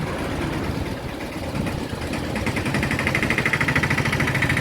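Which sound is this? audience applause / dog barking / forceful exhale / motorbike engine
motorbike engine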